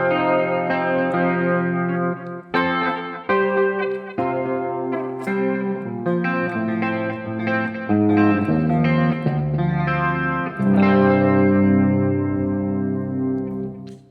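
An electric guitar on its bridge pickup plays a melodic passage of single notes and chords through a Dumble amp with reverb, delay and chorus, bright and sustained with echoing tails.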